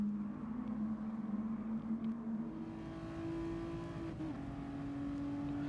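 A Renault Clio race car in Gran Turismo Sport at the Red Bull Ring, its engine droning steadily and loudly throughout, pitch holding and then rising slightly as it accelerates, with no talk.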